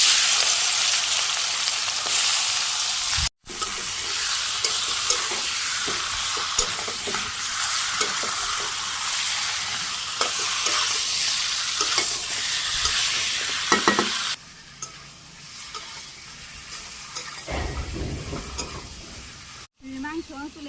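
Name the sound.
chicken meat frying with dried chili and cumin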